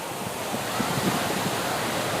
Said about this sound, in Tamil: மேல இருந்து அப்படியே வந்து தண்ணி கொட்டுது மக்களே